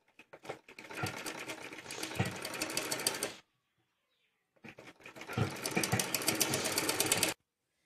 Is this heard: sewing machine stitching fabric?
yes